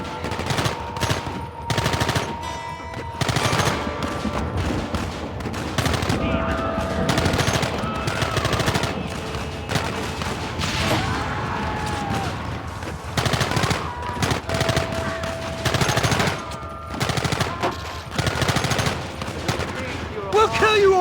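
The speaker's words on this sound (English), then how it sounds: "Targets on the horizon. Fire at will!" Dense gunfire in a Red Dead Redemption battle, rapid overlapping rifle and machine-gun shots rattling nonstop for about twenty seconds, loud and close with shouting voices mixed in.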